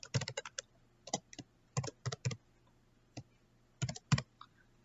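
Computer keyboard keys clicking in quick bursts of typing while entering values in an Excel spreadsheet, with short pauses between runs of fairly soft, close keystrokes.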